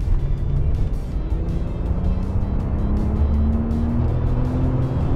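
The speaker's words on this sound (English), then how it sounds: "Time to do some highway driving. We're gonna see how this thing accelerates." Land Rover Range Rover SE accelerating on a highway, a steady loud engine and road drone with a tone that rises gradually and tire and wind roar throughout, no talking.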